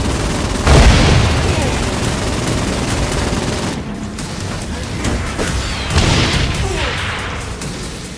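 Rapid bursts of gunfire from the Armchair Ageddon Sloth Gun in Saints Row: Gat Out of Hell, a dense, loud barrage with booming impacts running through the whole stretch, briefly easing before swelling again.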